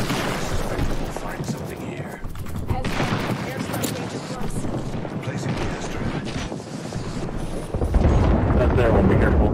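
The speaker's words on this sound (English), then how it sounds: "so many freaking bombs dropping from the sky" Airstrike bombs raining down in the game Apex Legends, a dense, continuous barrage of booming blasts and rumbling explosions that swells louder near the end, with a voice talking over it.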